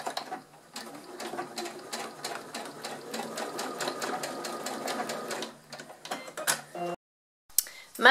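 A sewing machine stitches the lining fabric of a faux leather crossbody bag, a rapid mechanical run of needle ticks close by that stops briefly near the end before a short burst resumes.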